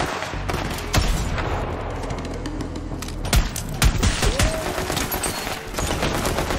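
Rapid pistol fire rings out in the Borderlands 3 video game, a loud burst of sharp repeated shots with heavier thumps and booming impacts mixed in, continuous through the whole stretch without speech.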